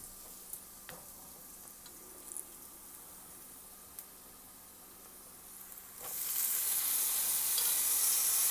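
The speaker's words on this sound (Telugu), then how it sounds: "ఇప్పుడు ఒకసారి కలుపుకొని వంకాయ ముక్కలు యాడ్ చేసుకుందాం." Eggplant pieces frying in oil with ginger garlic paste, a quiet steady sizzle with small utensil taps, then a loud burst of hissing sizzle as the pieces hit the hot oil.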